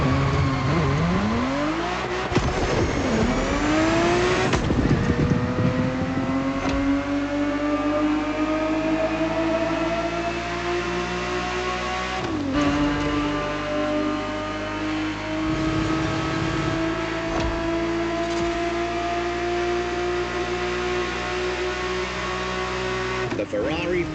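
A Ferrari 365 GTB4 from the 1970s revs and accelerates in The Crew Motorfest, its engine note climbing and shifting repeatedly across a sustained, loud run with talk over the top.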